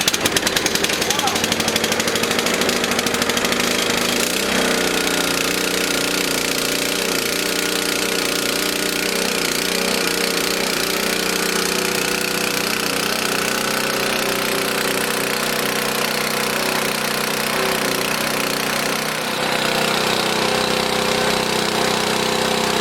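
A small pull-start engine runs steadily after being choked and then having the choke pushed in, its loud, continuous buzzing drone holding on without stalling for the whole stretch.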